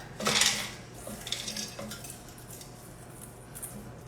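Frozen mixed berries scraping and clinking against a frozen bowl that the fruit sticks to, a loud close scrape at the start followed by quieter, scattered clicks and rattles without talk.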